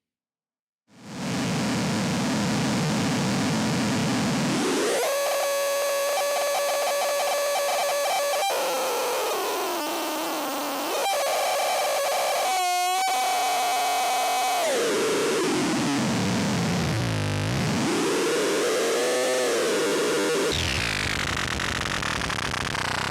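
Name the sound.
noise from cycling modular synthesizer patch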